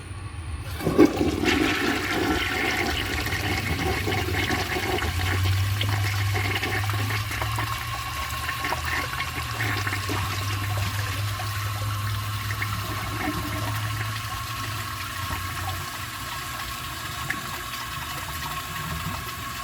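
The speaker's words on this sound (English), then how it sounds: "then I will flush it when the tank is full and see how it does" A 1952 Homart toilet flushing and then refilling its tank, a loud rushing gurgle at the start that settles into a long steady hiss and hum of water filling, with no talk.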